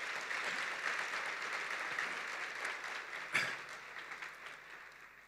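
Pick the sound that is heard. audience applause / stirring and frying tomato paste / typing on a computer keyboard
audience applause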